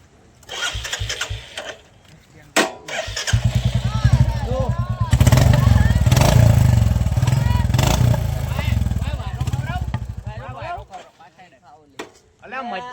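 A new Activa scooter cranks and catches, then runs and revs up and down close by for several seconds before cutting off, with people talking loudly over and around the engine.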